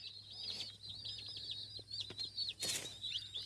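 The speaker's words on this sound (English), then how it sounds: "Oh, you got some meat birds?" Young meat chickens in a chicken tractor give a steady run of soft high chirps and clucks, close and continuous, with a brief burst of flapping or rustling near the end.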